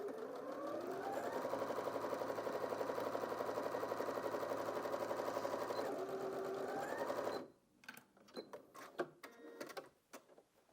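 Janome DKS30 sewing machine straight-stitching through denim, a close, steady mechanical whir with a rapid needle rhythm for about seven seconds, then stopping and giving way to light clicks and fabric handling.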